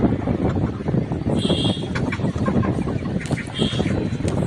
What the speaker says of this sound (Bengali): এই ভিডিওর মুরগিগুলোর বয়স হচ্ছে আজকে পঁচানব্বই দিন